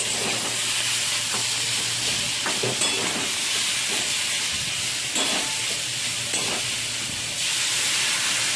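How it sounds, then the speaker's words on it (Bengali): Water poured into a pan of frying gime greens sets off a loud, steady hiss and sizzle, with a few sharper crackles and pops rising through the close, continuous noise. "জল দিয়ে দিলাম তারপর এটা পাঁচ থেকে দশ মিনিটের মধ্যে এটা একটু সেদ্ধ হয়ে গেলে"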